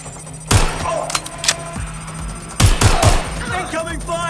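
Bursts of gunfire in Watch Dogs Legion, sharp shots in two clusters, one near half a second and a heavier volley around three seconds, over a steady game backdrop with a voice.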